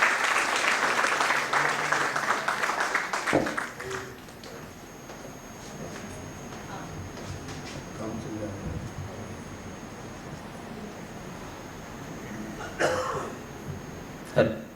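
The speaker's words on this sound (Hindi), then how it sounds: "आपकी जोरदार तालियों के बीच" An audience at a ghazal poetry event claps loudly for a few seconds. The applause then fades into a quieter hall with scattered coughs and shuffling, and a brief burst of clapping returns near the end.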